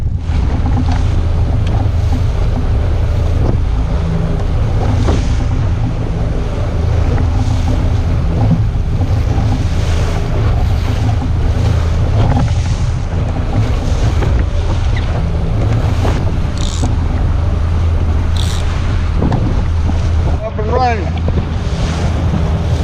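A fishing boat runs out to sea at 6 to 7 knots in deep water, with a steady loud engine and hull rumble, wind buffeting the microphone and waves slapping throughout.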